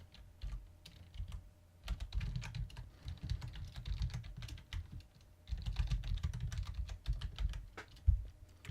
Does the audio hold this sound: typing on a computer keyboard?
yes